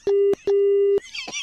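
Phone line tone after a call is hung up: two steady beeps, one short and one longer, then a brief noisy burst.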